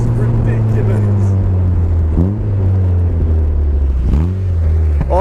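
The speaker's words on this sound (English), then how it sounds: "I cannot believe that we are driving on low boost and this is how it is pulling" Loud, continuous engine roar from an RX-5 250 demo car accelerating hard on low boost, with rising harmonic sweeps at each gear change and a steady deep drone throughout, heard from inside with talk over it.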